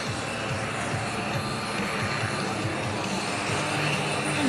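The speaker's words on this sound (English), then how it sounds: "doing rolls in a helicopter" A helicopter flying aerobatic rolls gives a steady, loud engine and rotor roar with slight pulsing, heard from a distance and fairly even throughout.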